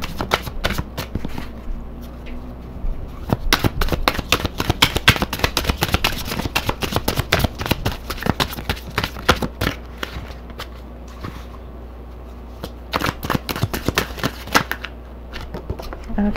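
Tarot cards being shuffled by hand, a dense run of crisp rapid riffling and flicking that is loud and close, continuing in bursts with short pauses throughout.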